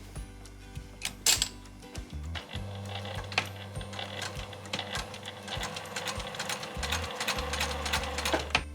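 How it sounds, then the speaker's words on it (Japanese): A sewing machine backstitches and then sews a seam on a tucked skirt, running in a steady mechanical whir with brief pauses and restarts, close and moderately loud, with no talking. "ここから針を刺して返し縫いをして縫っていきます。"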